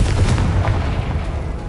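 A Confringo blasting spell explodes in the Hogwarts Legacy video game, a loud, deep, rumbling boom that fills the whole short moment.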